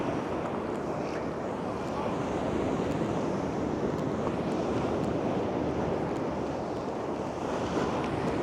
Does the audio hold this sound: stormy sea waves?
yes